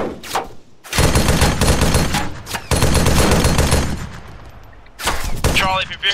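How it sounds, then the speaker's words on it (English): Rapid bursts of gunfire crack and rattle during a military-style squad training exercise at Camp Almyra. Sustained volleys come close and loud with short gaps between them, and voices are faintly mixed in. "Contact southeast. Taking fire southeast,"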